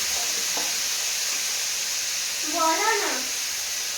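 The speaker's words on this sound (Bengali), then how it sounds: "আলুটা লবণ আর হলুদ দিয়ে ভেজে নেবো।" Potatoes fry in oil with salt and turmeric in a home kitchen for a steady, faint sizzle, while a voice speaks briefly over it.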